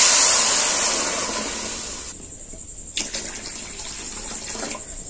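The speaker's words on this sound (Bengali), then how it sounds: "2 বাটি চিনির জন্য আমি 2 বাটি জল দিয়ে দেব।" Water pours steadily into a pot of sugar to make syrup, a broad continuous splashing rush that thins and quiets partway through, followed by softer trickles and small clinks.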